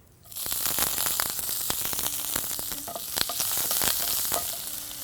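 Curry leaves and asafoetida dropped into a teaspoon of hot oil over lowered heat, bursting into loud crackling sizzle with rapid pops and spits that start abruptly and continue steadily throughout.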